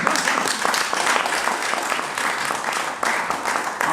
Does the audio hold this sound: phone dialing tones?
no